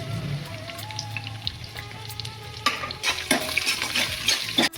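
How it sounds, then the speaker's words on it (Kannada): Chopped onions frying in oil for tempering, a crackling sizzle that swells in the second half with stirring scrapes, close and alone without talk. "ಮೀಡಿಯಂ ಸೈಜಲ್ಲಿ ಒಂದು 3 ಈರುಳ್ಳಿನ ಸಣ್ಣಕ್ಕೆ ಹೆಚ್ಕೊಂಡಿದ್ದೀನಿ, ಅದು ಹಾಕ್ತಾ ಇದ್ದೀನಿ ಒಗ್ಗರಣೆಗೆ"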